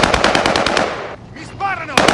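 Rapid machine-gun fire rattles close and loud in a burst of closely spaced shots, breaks briefly while a voice speaks, then resumes.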